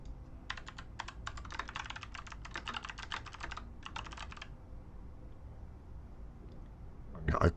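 Rapid bursts of typing on a computer keyboard as an address is entered, close and clear, in several runs separated by short pauses before the keystrokes stop and a brief bump sounds at the end.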